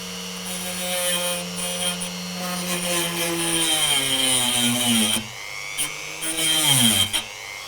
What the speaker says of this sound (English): You just need to get a Dremel.